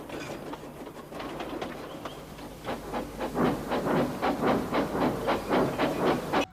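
A Thomas toy train runs with a steady hiss and rhythmic clickety-clack beats that build and stay fairly loud, close by, with no talk.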